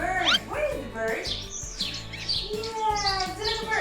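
A voice imitates a bird with high chirping and tweeting calls, mixed with speech-like vocal sounds in a child-oriented farm animal setting.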